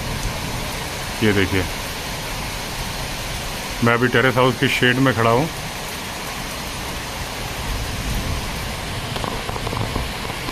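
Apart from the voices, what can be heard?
heavy rain falling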